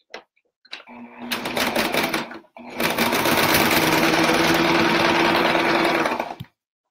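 A sewing machine stitches through three layers of batting and two layers of fabric for an oven mitt, a short burst followed by a longer loud, steady whirring run that then stops, close up.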